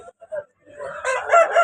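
A heavy Kakinada-breed rooster of about four kilograms crows loudly and close by at a Vijayawada rooster market. The drawn-out crow follows a few short, faint sounds at the start.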